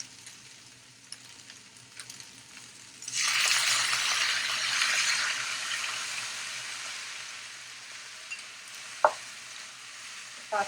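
Sauce mixture poured into a pan of frying chili chicken: a quiet start, then a sudden loud hiss and sizzle that gradually eases, with a few metallic clinks of the spatula near the end.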